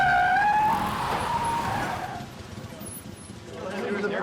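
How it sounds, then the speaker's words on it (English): A car brakes hard with a screeching tyre squeal that slides down in pitch, loud and close, then fades into a rumbling engine and street noise. "The brakes are great on that car."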